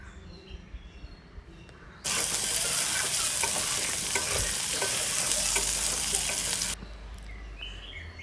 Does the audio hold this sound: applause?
no